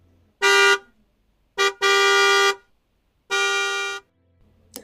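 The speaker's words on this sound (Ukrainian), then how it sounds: "Давайте повторимо сигнал автомобілів." A car horn honks three times, a short beep followed by two longer blasts with a brief gap between them, loud, clear and alone.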